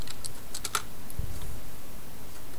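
Typing on a computer keyboard, a short burst of light clicking keystrokes early on and then a steady low hum, close and alone.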